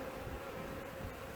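Honey bees in a hive colony in Newfoundland in March give off a steady, faint, continuous buzzing hum, with no voices.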